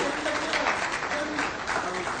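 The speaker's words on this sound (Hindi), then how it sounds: "तालियां हो जोरदार।" Steady, dense applause fills a short stretch at a government ceremony where appointment letters are handed out, the clapping sustained and moderately loud from a crowd with no words over it.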